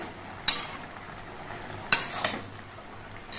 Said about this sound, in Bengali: আর শাকগুলো একবার নেড়ে চেড়ে দিচ্ছি।